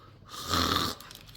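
A person imitates snoring in a kitchen while cooking mac and cheese, one drawn-out, rumbling snore of about half a second, fairly close and moderately loud, with no talking over it.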